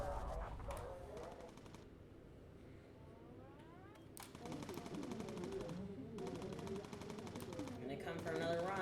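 Aircraft guns in Bomber Crew rattle off rapid machine-gun bursts, stuttering on and off at moderate loudness over engine drone, with voices talking throughout.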